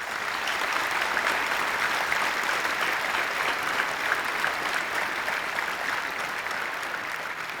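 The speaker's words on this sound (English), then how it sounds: "So please give the Japanese strike team a huge applause." Conference audience applauding a team on stage at EVE Fanfest 2012, an even, continuous roar of clapping from a large crowd that carries on without pause throughout.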